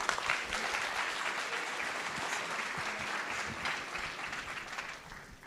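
Steady applause from a crowd at a hackathon opening ceremony, dense clapping that holds level for several seconds before starting to fade.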